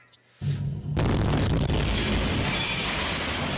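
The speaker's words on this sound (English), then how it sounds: "a thunderous explosion destroyed a hospital for COVID patients in the Ural Mountain city of Chelyabinsk. Oxygen tanks blew up." Oxygen tanks explode at a COVID hospital in Chelyabinsk with a sudden heavy boom, followed by a sustained loud roaring rumble that does not die away.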